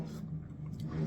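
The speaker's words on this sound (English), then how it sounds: "I think it's a revving engine." A car engine revving somewhere outside, a steady mid-pitched drone that swells slightly toward the end, heard from a distance indoors.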